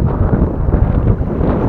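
Steady, rumbling wind buffets the microphone while fishing for shrimp outdoors, a dense low roar with no other clear sounds.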